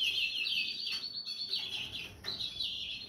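Small pet birds in a breeder's aviary chirp continuously, a dense, high twittering of several birds close by, steady throughout with no talking.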